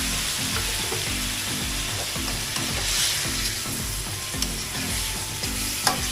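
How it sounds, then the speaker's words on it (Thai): Catfish stir-fried in a pan with stock and sugar, a loud continuous sizzle under regular scraping strokes of the spatula, with occasional sharper clinks of metal. "ก็ผัดไปเรื่อยๆครับ ผัดต่อ ไปให้สุกแล้วบ้านะผัดให้สุก"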